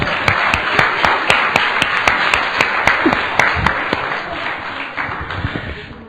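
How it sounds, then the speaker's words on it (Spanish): Church congregation claps in rhythm, loud and close, a steady beat of hand claps over a dense crowd wash with a high electronic tone running underneath, fading slightly toward the end. "Denle un aplauso al Señor de gloria."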